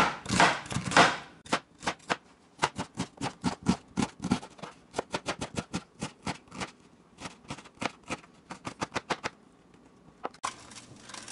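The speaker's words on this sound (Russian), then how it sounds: "Сейчас мы измельчим луковицу помельче" Onion being finely chopped with a knife on a board for broccoli-cheddar soup, a fast run of crisp, close taps in an uneven rhythm, with a longer scraping burst at the start and a pause near the end.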